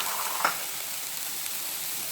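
Garlic with cabbage, capsicum and green beans hits sesame oil in a pan for vegetable fried rice, a soft steady hiss with one brief clink near the start.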